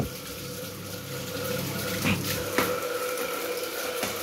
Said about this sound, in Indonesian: Ini airnya.